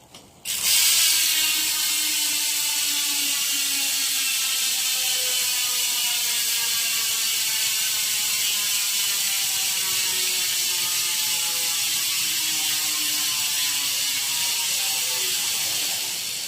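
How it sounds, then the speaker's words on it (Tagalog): A Hassns Pro 7 bicycle hub's freewheel ratchet buzzes in a fast, continuous clicking whir, close and steady, slowly easing in speed as the wheel coasts. "So ganito ang tunog ng wheelset ko."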